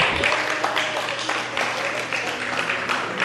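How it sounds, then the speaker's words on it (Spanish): A church congregation applauds, producing a dense, steady wash of clapping from many hands that holds at an even, fairly loud level throughout. "Bríndele un fuerte aplauso al Señor."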